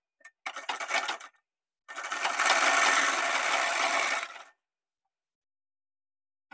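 A sewing machine stitches the leg margin of pant-cut palazzo trousers: a short burst of stitching, a pause, then a longer steady run of rapid mechanical clatter, close and clear with no talk.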